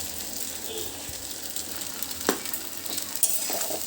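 Chowmein and capsicum stir-fry in a hot pan with a steady close sizzle, broken by a few sharp scrapes and clinks of a utensil against the metal.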